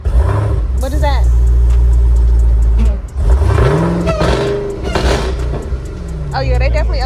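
A loud car engine with an upgraded exhaust roars and revs repeatedly with a throaty, deep exhaust note, while people talk over it.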